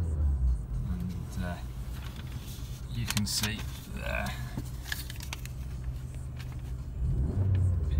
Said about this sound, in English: it revs nicely and quick as soon as you touch the accelerator